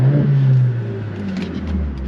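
The 2-liter inline-4 turbo engine of a 2023 Mercedes-AMG CLA 45 Coupe hums loudly at close range, its low rumble easing slightly and then holding steady, with no talking.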